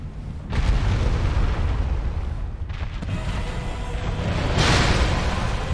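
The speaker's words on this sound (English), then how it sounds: "Now I just kill this with the black fire bombs." Black fire bombs exploding in Dark Souls, a string of heavy booming blasts over a dense low rumble, the loudest bursts near the start and toward the end.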